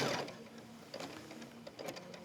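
Embroidery machine finishing a note holder in the hoop, a faint, steady mechanical hum with light rhythmic clicks and taps running throughout.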